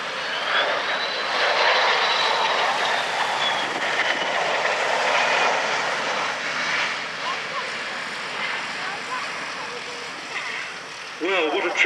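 Boeing 727-200F jet flying past at the Duxford air show, a broad roaring jet engine rush that swells and slowly fades, with a commentator's voice over the public address.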